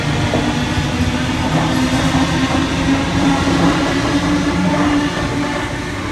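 A Sydney A set electric train pulling out of Parramatta station, a steady loud rumble of wheels and running gear close by that holds constant throughout, with a faint tonal whine.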